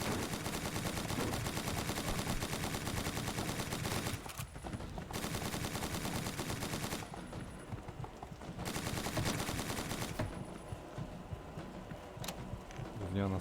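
Rapid automatic gunfire in Lovecraft's Untold Stories, a dense and loud rattling burst that repeats in long runs separated by brief pauses, with a voice talking underneath.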